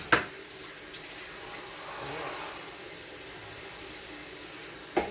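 Tap water running into a sink to wash a cutting board, a continuous close hiss of flowing water framed by a sharp knock at the start and another at the end.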